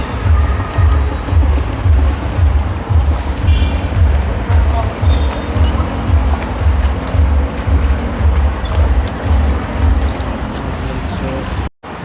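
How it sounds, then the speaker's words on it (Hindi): Heavy monsoon rain pouring steadily outdoors, a dense continuous hiss with low rumbling wash underneath, loud and unbroken for the whole stretch before a brief dropout near the end. "तो बारिश बहुत तेज़ से हो रही है"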